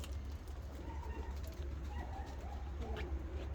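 Japanese pigeons in a loft, a male courting a female, give soft, low cooing calls repeated over steady background hum, fairly close and continuous without talk.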